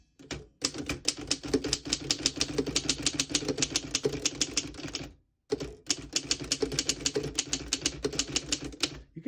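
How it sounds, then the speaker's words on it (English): Rapid, even keystrokes clack on a 1910 Underwood No.4 antique desktop typewriter, a steady run of sharp strikes broken by one short pause before the typing resumes, close and clear with no voices. "I'll type a sentence on the next line."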